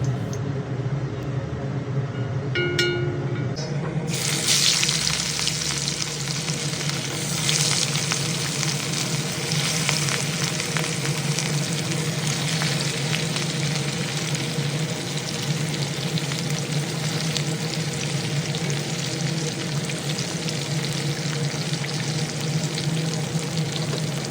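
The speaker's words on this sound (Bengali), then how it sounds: "এর মধ্যে একে একে কাতলা মাছের টুকরোগুলো দিয়ে বেশ ভালোভাবে লাল লাল করে ভেজে তুলে নেব" Katla fish pieces fry in hot oil in a wok, giving a dense, steady sizzle that erupts after a few quieter seconds and then holds, loud and continuous, to the end.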